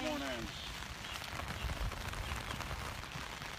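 Steady rain falling outdoors on a rainy morning, a dense continuous patter at moderate level throughout, with faint low rumble beneath.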